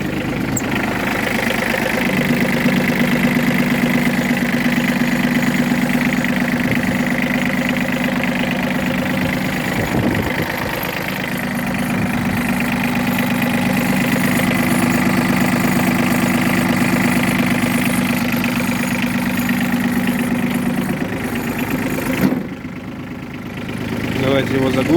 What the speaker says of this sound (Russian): Двигатель работает замечательно.